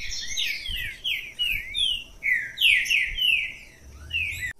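A green-winged saltator (trinca-ferro) sings a string of loud, clear, sweeping whistled phrases in steady succession, close by and alone, with faint low background noise.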